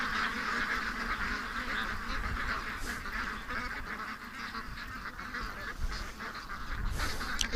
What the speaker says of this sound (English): the ducks are hanging around here so much